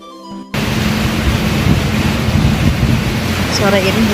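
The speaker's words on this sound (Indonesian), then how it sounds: "Sore ini hujan" Heavy rain on a rainy afternoon starts abruptly after a short quiet moment and continues as a loud, dense wash of noise. A voice is heard faintly near the end.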